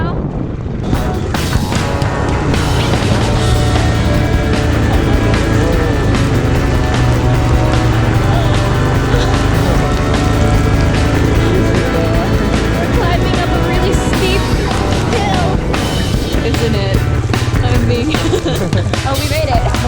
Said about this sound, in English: This is actually my first time riding on motorbike in the rain.